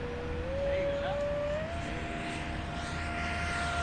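An Eflite F-4 Phantom II 80mm electric ducted-fan RC jet flying overhead gives a steady whine that rises in pitch and then holds, loud and continuous throughout.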